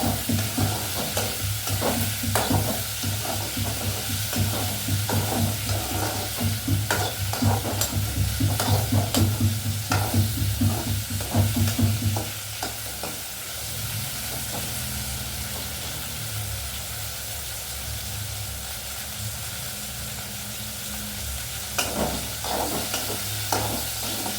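Okra stirs and sautés in a hot pan for a Kerala aviyal curry, with a continuous sizzle and frequent scraping strokes. The stirring is busy early on and grows quieter and sparser toward the end.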